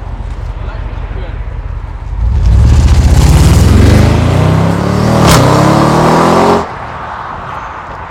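Audi RS6 ABT tuned to 700 horsepower launching from a standstill on a road, a deep engine roar rising through the revs in a loud, close surge that builds for several seconds and then cuts off.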